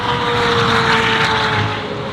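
A high-revving Senna supercar engine drones steadily from a distance on a private racetrack, a continuous whine that swells and then fades slightly toward the end.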